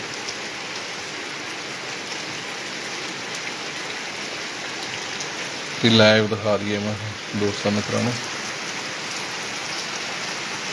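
Steady heavy first monsoon rain pouring continuously over a village in Punjab's Malwa region, a dense even hiss throughout, with someone speaking briefly over it partway through.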